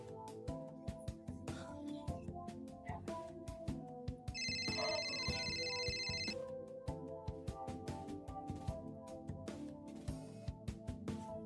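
A phone rings insistently with an incoming call, a repeating melodic ringtone rising clearly over steady background music, with one louder burst of ringing in the middle.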